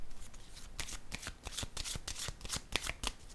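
A playing card is laid down during a card reading, with soft flicking and slapping of cards in a quick, irregular series, close and fairly quiet, with no talking.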